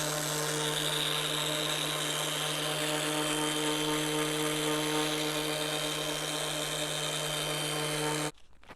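A buffer polishes a car headlight with compound, a loud steady close whine holding a constant pitch throughout before stopping abruptly near the end.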